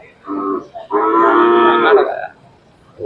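A breeding bull at Sangola cattle market lets out a deep, loud moo, a short grunt followed by a long drawn-out bellow, close by, with no talk.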